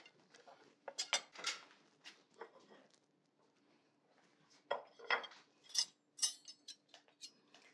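Salad of arugula, delicata squash, pesto shrimp and pomegranate seeds being served onto a plate with utensils: soft, intermittent clinks and scrapes of metal on dishware in two clusters, close and faint, with no talking.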